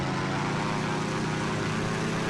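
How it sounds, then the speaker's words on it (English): A propeller aircraft drones overhead in the submarine game Silent Hunter III, a loud, steady engine roar holding throughout with no breaks. "Here's the plane."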